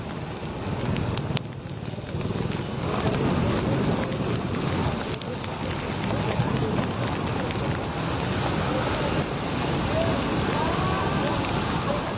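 Heavy monsoon rain in Maharashtra, with Mumbai flooding, pours as a dense, continuous hiss of rain hitting surfaces, steady and fairly loud throughout, roughened by bursts of wind buffeting the microphone and a few sharper knocks.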